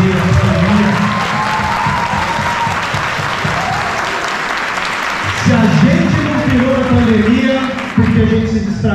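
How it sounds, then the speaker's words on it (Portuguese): A convention crowd at JediCon SP 2022, a Star Wars fan event in São Paulo, breaks into loud, sustained applause and cheers that keep going throughout, swelling again partway through. "eu vou pedir umas palmas porque esses caras já mandaram bem."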